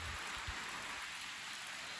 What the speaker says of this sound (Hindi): बरसात बहुत ही तेज़ रफ्तार पकड़ चुकी है इस टाइम